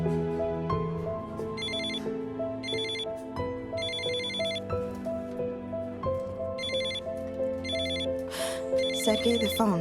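A telephone rings in repeated electronic bursts of trilling tone, about six rings over steady background music, with no talk in between; the ringing sits at a moderate, clear level.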